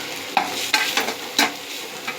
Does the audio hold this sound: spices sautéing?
yes